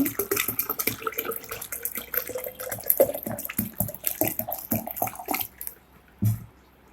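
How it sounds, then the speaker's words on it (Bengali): Water poured from a container into a vessel while making sharbat, a steady splashing stream that thins to a trickle and stops, followed by a short final splash. "আমি আজকে একটা শরবত বানাবো দিয়ে দিচ্ছি পরিমাণ মতো পানি"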